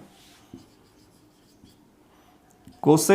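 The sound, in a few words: writing on paper during a math lesson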